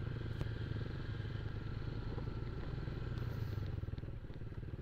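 A motorcycle on a rocky riverside path near Nambalan River in Mayantoc, Tarlac, gives a steady, fairly faint low engine rumble mixed with light clattering and scraping.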